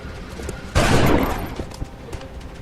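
A single loud gunshot burst in a turn-based alien combat video game, with a short decaying rumble over low background game sound.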